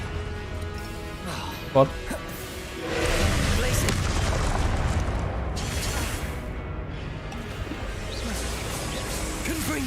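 In a Harry Potter video game, a Confringo explosive spell lands with a short crack followed by a swelling, sustained rumble, while a voice briefly speaks over it.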